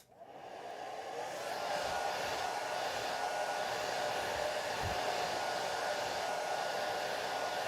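A hair dryer blowing over a watercolor painting of a moonlit sky, switching on with a quick rise into a steady, loud, continuous whoosh that holds unchanged for several seconds, no voices.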